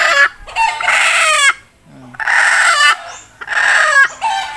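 A rooster, a chicken caught to be cooked as tinola, crows loudly and close by in three long, strained calls separated by short gaps, with a little clucking in between.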